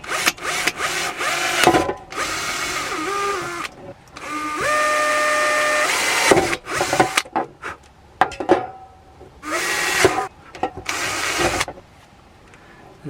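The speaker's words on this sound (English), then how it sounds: "I'm probably just going to try and drill some holes here so I can attach some cable ties to it to get it to the grid." A power drill bores holes into a van's vent grid so cable ties can be attached, with short whirring bursts and a few longer runs spinning up and stopping, close and loud with quiet gaps between.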